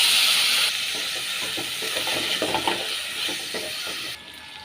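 Steady, broad sizzling hiss of raw banana frying in hot oil, loud at first and then settling into a continuous crackle.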